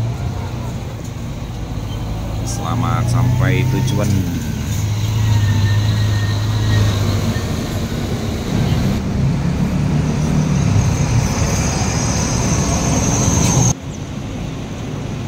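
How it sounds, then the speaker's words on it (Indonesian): A Rosalia Indah double decker bus on the Solo to Malang route pulls away from a terminal with a loud rumbling engine over busy traffic noise, while a voice talks over it. "masuk lagi bus Malang Rosalia Indah double decker"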